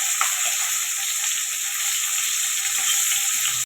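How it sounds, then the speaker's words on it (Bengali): Bata fish fries in hot oil in a wok, filling the short clip with a loud, continuous bright sizzle and crackle up close. No one speaks. "মাছটাকে উল্টে পাল্টে আমি ভেজে নিচ্ছি"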